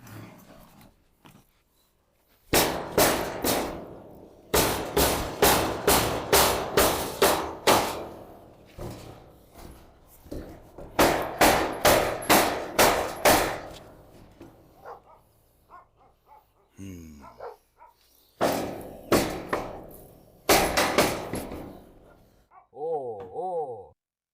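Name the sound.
hammering with a big hammer while building a cat house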